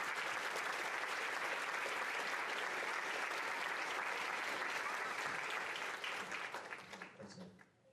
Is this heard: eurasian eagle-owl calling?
no